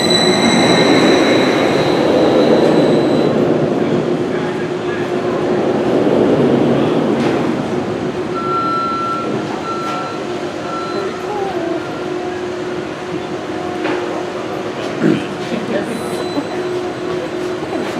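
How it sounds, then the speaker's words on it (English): The Tempesto roller coaster train at Busch Gardens Williamsburg rumbles and rolls slowly along the track nearby during a below-speed test run, with mechanical clanks and a brief squeal, while a person talks over it. "they're just bumping the train right now, so it's not full speed"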